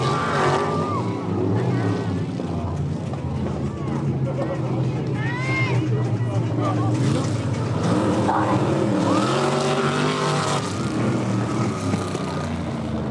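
Vintage oldtimer race cars competing at a 2001 IMCA exhibition at Hastings Little Log House Pioneer Village: a continuous roar of several engines rising and falling as they pass, with voices talking over the noise.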